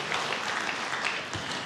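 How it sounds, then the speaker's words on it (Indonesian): A church congregation claps during a sermon, giving a short burst of steady, dense applause that fills the room evenly from start to finish. "Yang setuju berikan tepuk tangan yang meriah buat Tuhan."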